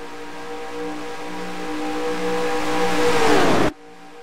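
Race cars on a track in a NASCAR-style cup series racing video game, with Toyotas in the field: a steady engine drone building in pitch and loudness before cutting off abruptly near the end, no talking.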